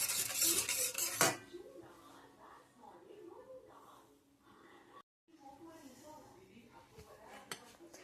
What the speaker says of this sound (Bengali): টক দইটা ভালো করে মিশিয়ে নিতে হবে